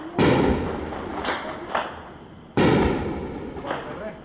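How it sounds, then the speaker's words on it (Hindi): Explosions in the night sky over the Jammu-Samba sector as S-400 air defence shoots down Pakistani missiles: two loud, distant booms, each followed by fainter cracks and a rolling decay, with faint background voices. "आप इन आवाजों के जरिए समझ सकते हैं कि किस तरह से पाकिस्तान के भेजे जा रहे मिसाइलों को मार गिराया जा रहा है"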